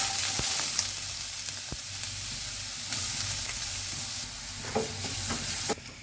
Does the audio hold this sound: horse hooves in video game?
no